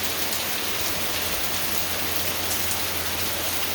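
Dense, steady downpour of heavy rain in the woods, a continuous loud hiss of drops hitting leaves and ground with no pauses.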